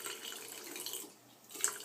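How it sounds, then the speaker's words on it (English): Tap water running into a bathroom shower or sink while conditioning rinse is diluted in a cup, a steady close splashing hiss with a brief dip and a small clink near the end. "turn on the water"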